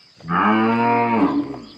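A single long, loud cow moo, deep and drawn out for about a second, with no voices around it.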